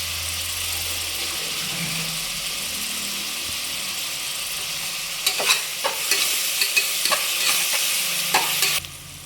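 Salted onions for mutton kuzhambu sauté in a pan with a constant sizzle that swells in the second half, where sharp, irregular scrapes and knocks of a spoon stirring against the pan break through before the sound drops back.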